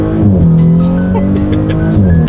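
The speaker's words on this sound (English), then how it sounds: "just a quick acceleration, see how quickly we can get the 2018 S4 here up to speed" A 2018 Audi S4 accelerating hard from inside, its engine droning loudly and climbing steadily in pitch through the gear, with a brief shift partway and faint road noise underneath.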